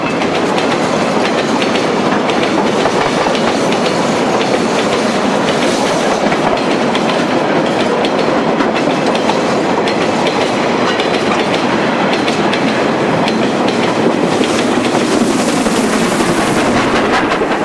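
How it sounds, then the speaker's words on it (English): Train of empty coal wagons returning to a mine in the Jixi area of China, climbing a steep bank with a banker locomotive; loud, continuous wheel and wagon rumble with clickety-clack, and no voices. "This bank is steep enough for the empties returning to the mine to need the use of a banker."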